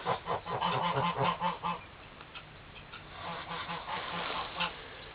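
Geese near their nests give rhythmic nasal honks, loud and close at first, then quieter calls continuing over a background of other birds, with no talk.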